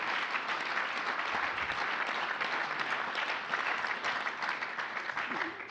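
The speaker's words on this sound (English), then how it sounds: "Let's give our panelists an applause here" Alumni forum audience applauding the panelists after a discussion, a fairly quiet but continuous patter of many hands clapping for several seconds, heard from a distance with faint murmurs underneath.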